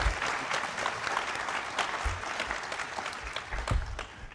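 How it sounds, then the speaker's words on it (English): An audience at a PAX West 2018 panel claps steadily throughout, a dense patter of applause that holds at a fairly even level. "So give them a round of applause just for the fact that they are working a lot."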